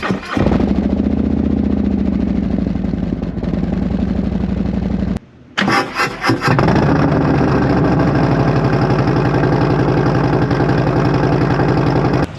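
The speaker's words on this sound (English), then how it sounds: "here's what the existing exhaust sounds like at startup" A motorcycle engine cranks and fires up, runs briefly, cuts out, then restarts with a few sharp revs before settling into a loud, steady idle.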